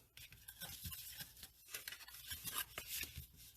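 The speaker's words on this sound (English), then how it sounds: "burnish that with our bone folder" A bone folder is rubbed firmly along the folded sides of a paper box, giving soft scraping and rasping strokes. The strokes come in quick irregular bursts, close and faint.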